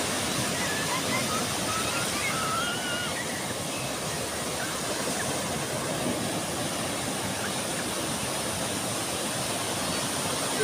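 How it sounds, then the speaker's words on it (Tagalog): Large sea waves churned up after a typhoon, heard as a continuous broad roar of surf with no distinct breaks, fairly distant and even, while people swim nearby; no clear speech stands out. "Oh, napakalaki ng mga alon, no?"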